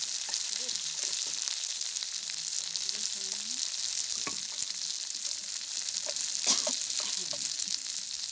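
Cumin and coriander powder frying in a pan at a home picnic cook-up, giving a steady bright sizzle throughout with occasional scrapes of a spatula and faint voices in the background.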